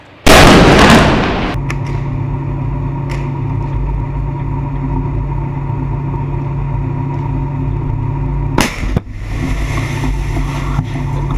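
A tank cannon fires one loud, close boom during urban combat in Jobar, Syria, rolling off slowly into a steady engine rumble as the tank moves forward, followed later by a second, sharper report.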